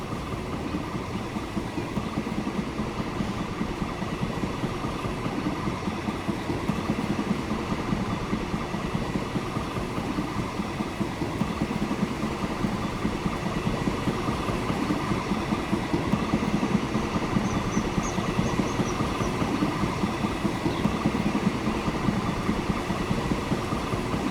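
A train runs along a railway in the game Transport Fever 2, a steady continuous rumble with fast rhythmic clicking from the wheels over the track, constant and fairly close for the whole stretch, no talk.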